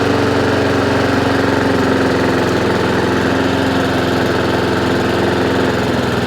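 A Honda IZY petrol lawn mower engine, its carburettor just repaired, idles steadily and close by with an even, continuous putter and no talking.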